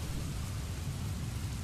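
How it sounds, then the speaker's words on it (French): Continuous rainfall playing as background ambience on the Rainy Mood relaxation site, an unbroken soft hiss over a low rumble, even in level and free of speech. "juste de la pluie en fond"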